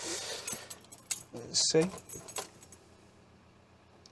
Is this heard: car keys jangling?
yes